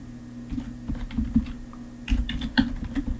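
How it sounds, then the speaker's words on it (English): Typing on a computer keyboard, irregular bursts of close key clicks with a brief pause before a quicker flurry near the end, over a faint steady hum. "You notice as I'm typing,"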